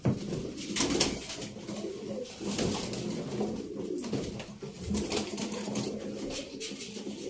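Several gök (blue) pigeons, males among them, coo in a rolling, continuous murmur at a pigeon auction. Occasional wing flutters and close handling noises sit in the mix.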